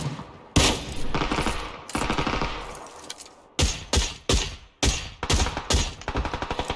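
Automatic gunfire in PUBG on the Erangel map near the military base: loud, close bursts of rapid shots, first long rattling strings, then a rhythmic series of single heavy reports and a final quick volley.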